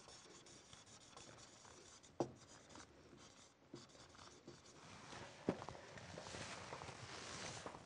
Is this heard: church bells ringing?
no